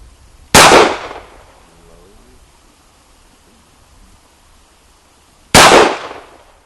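Two loud, sharp gunshots from an H&K USP pistol at an outdoor range, about five seconds apart, each a sudden close crack that fades quickly into quiet.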